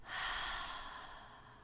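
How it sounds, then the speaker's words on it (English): A single long, soft exhale during guided meditation breathing, a breathy rush of air that swells quickly and then slowly fades, heard alone and close. "That really long breath out"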